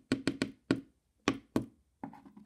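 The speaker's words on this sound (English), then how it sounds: "let's knock on the door" Knuckles knocking on a door: a quick burst of three raps, a single knock, two more after a pause, then softer tapping at the end, crisp and close in an otherwise quiet room.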